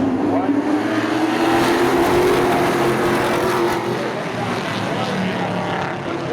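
Pro stock race cars lapping Seekonk Speedway, a loud continuous roar of engines with one rising tone carrying across the track and a voice speaking over it.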